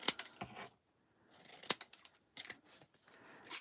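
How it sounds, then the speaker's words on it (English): Scissors snip around the edges of a Christmas card in a few quiet, close cuts separated by short pauses. "I'll cut the edges down."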